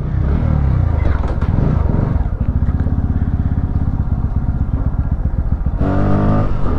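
A Bajaj Pulsar NS200 motorcycle engine revs up loudly and close in the rain, its throbbing exhaust rising in pitch as it accelerates hard at full power, then briefly drops and climbs again.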